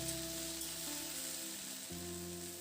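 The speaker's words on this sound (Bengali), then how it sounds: "রেখে রেখে ভেন্ডি আলুটাকে ভেজে নেব।" Okra and potatoes frying in a pan give a soft, steady sizzle under a faint hum, quiet and continuous with no talk.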